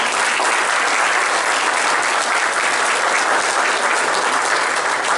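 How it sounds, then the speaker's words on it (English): Continuous, loud audience applause at an anniversary celebration of a rugby program, steady and dense throughout without a break. "That deserves a round of applause."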